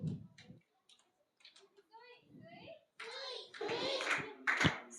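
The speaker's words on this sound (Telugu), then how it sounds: "బటర్ఫ్లై క్లాప్స్ కొడుతున్నారు" Children doing butterfly claps in a group class, light scattered hand claps among children's voices and an instructor talking, building to denser, louder clapping in the final seconds.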